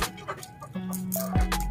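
A chicken clucks close by in a few short, choppy bursts, ending in a longer drawn-out cluck, loud and clear with no talking over it.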